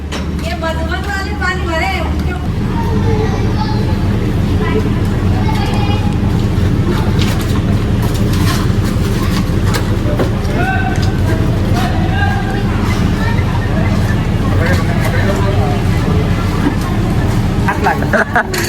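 An old vehicle's heavy engine rumbles steadily and loudly after a brief starter-driven start, with people talking and calling out over the noise throughout.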